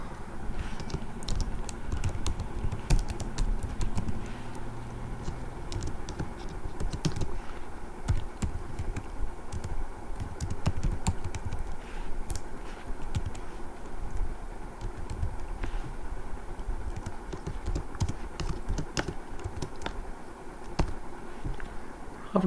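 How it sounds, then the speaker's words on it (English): Steady typing on a computer keyboard while writing a Python program, continuous key clatter at close range with no talking, over a low background hum. "So I will type here as n is equal to"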